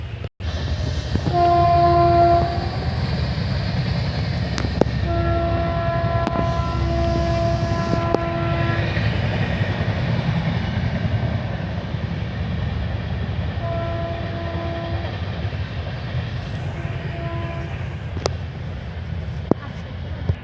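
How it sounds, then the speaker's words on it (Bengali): A train rumbles steadily past nearby, its horn sounding in several long blasts over the heavy, continuous roar of the wheels. "দেখো ট্রেন আসছে"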